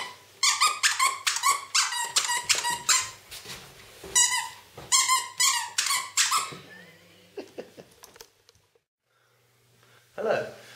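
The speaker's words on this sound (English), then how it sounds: "Recording takes a short break while the dog plays with his squeaky toy." A dog plays with a squeaky toy in a home recording studio, producing rapid bursts of sharp, loud squeaks in quick rhythmic runs that pause and start again close to the microphone, with no talking.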